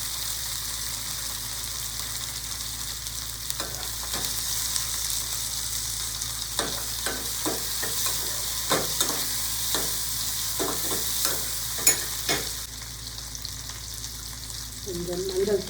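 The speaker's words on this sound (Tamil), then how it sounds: "பொடிசாக கட் பண்ண இஞ்சி, வெங்காயம், தக்காளி, பச்சை மிளகாய், சிகப்பு மிளகாய், தேவையான அளவு கருவேப்பிலை, கொத்தமல்லி இதெல்லாம் போட்டு வதக்கணும்" Chopped ginger, onion, tomato, green and red chillies, curry leaves and coriander sautéing in a pan, a low steady hiss with bursts of spatula scraping and taps through the middle stretch, moderately close.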